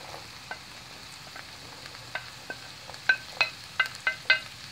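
Asparagus sizzles in a pan for risotto, with a soft steady frying hiss and a few sharper crackles and clinks of stirring toward the end, close and fairly quiet.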